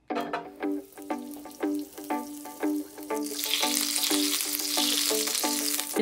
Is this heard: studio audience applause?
no